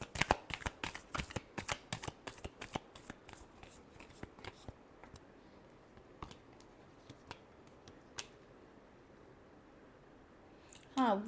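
Tarot cards being shuffled close by, a quick run of crisp riffling flicks that slows and thins into scattered single snaps, with a brief voice at the very end.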